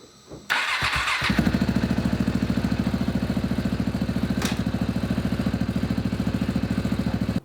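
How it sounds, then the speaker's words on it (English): A KTM 690 motorcycle engine cranks briefly, catches, and settles into a loud, close single-cylinder idle with an even, rapid thumping pulse that holds to the end. "now we'll start the bike and see if it'll go in gear"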